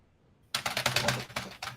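Computer keyboard typing over a voice chat during a Railroads Online session: a quick run of crisp, close key clacks with a few short pauses, fairly loud against a quiet background, no talk.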